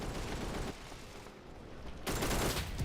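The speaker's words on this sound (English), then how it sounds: "Oh, it's my teammate shooting me." Gunfire in a video game from a teammate shooting: dense, rapid automatic bursts crackle continuously at moderate loudness, easing briefly in the middle before surging back.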